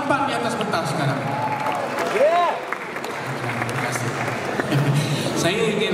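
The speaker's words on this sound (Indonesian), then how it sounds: "kita berikan tepukan yang paling gemuruh untuk pengacara majlis yang agak tampan di atas pentas sekarang" Applause rises from the audience at a drama series launch event as the master of ceremonies takes the stage. A moderate, textured patter of clapping runs continuously beneath voices talking in the room.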